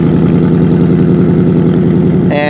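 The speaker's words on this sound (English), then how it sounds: "That legendary 5-liter V8 comes to life." 2024 Ford Mustang with a 5-liter V8 and active valve exhaust, idling after starting: a loud, close, deep, steady burbling engine idle with a rhythmic low throb throughout, alone without voices.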